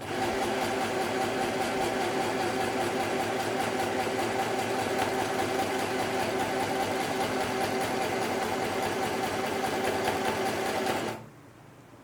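A sewing machine stitches a 1 cm seam on a pair of shorts, running in a fast, even mechanical whir for about eleven seconds before stopping abruptly.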